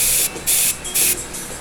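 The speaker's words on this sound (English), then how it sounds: "So I like to spray off the card onto the area of where I'm putting the color." Airbrush spraying paint off a card onto a Saquon Barkley artwork, heard as three loud, steady hissing bursts with short gaps between them, close to the listener, with no talking.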